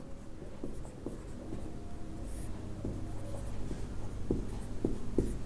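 Chalk or marker writing numbers on a classroom board during a maths lesson, a series of faint taps and short strokes at irregular intervals, close and quiet, with no talk over it.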